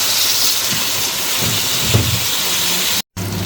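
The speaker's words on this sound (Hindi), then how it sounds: "अब इसमें प्याज ऐड कर देंगे। प्याज को हम 3 से 4 मिनट के लिए सौते करेंगे इसी तरह।" Chopped onions sauté in hot oil for masala-stuffed bitter gourd, giving a loud, steady, close sizzling hiss that runs without a break, cuts out briefly near the end, then resumes.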